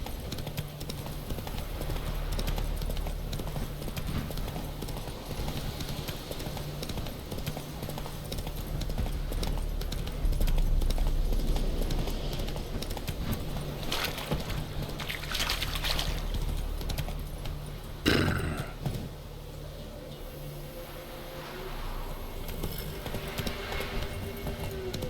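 Roach, Geralt's horse in The Witcher 3, gallops with a steady clip-clop of hooves over ambient game sound, the pace holding for most of the stretch before a brief thump and a calmer end.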